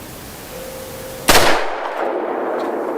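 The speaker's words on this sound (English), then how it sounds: "I'm shooting that steel target to pieces." A Ruger GP100 revolver fires once at a steel target outdoors: one loud, abrupt report with a short ringing decay after a quiet stretch, with no talk.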